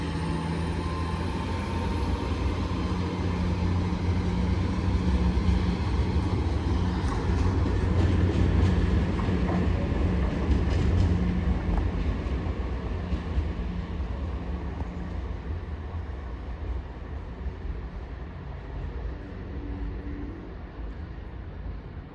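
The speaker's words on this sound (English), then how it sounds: "Train now departing is a 802" A Class 802 train pulls out of a station bound for Scarborough, a steady low rumble and engine drone holding for many seconds before easing slightly toward the end, heard from the platform with no talking.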